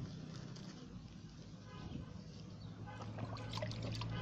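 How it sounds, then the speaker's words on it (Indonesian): Seedlings in freshly firmed growing media are watered, giving a continuous soft trickle and splash of water that runs steadily through the clip at moderate level. "Setelah itu kita siram"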